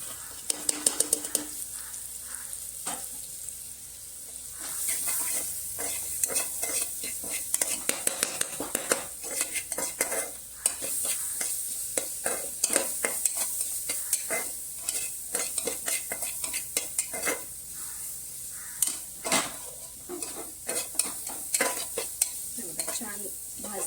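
Turmeric, cumin and mustard seeds fry in a pot with a lively sizzle while a spoon stirs and clanks repeatedly against the metal, giving rapid scraping bursts throughout. A faint whisper-like voice occasionally sits underneath.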